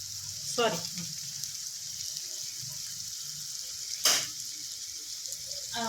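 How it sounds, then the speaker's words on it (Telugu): Fenugreek leaves fry in a pan for boti curry with a steady, close sizzle and hiss, broken by a few brief scraping stirs. "ఇందులో నేను మెంతం కూర యాడ్ చేస్తున్నానండి."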